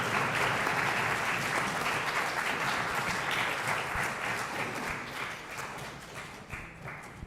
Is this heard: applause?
yes